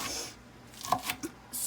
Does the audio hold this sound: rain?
no